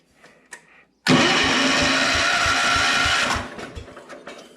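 A Power King tiller engine fires up abruptly after a few faint clicks and runs loud and close for about two seconds with a rapid chugging beat, then drops to a lower idle.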